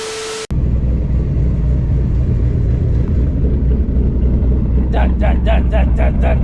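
Inside a 2024 Ford Mustang GT S650 driving on the road before a storm, a steady low engine and road rumble fills the cabin, with a quick run of rhythmic clicks near the end.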